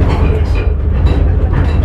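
A passenger train running along the Kerala coast near Veli makes a loud, steady low rumble and rattle heard from on board, with a voice talking over it.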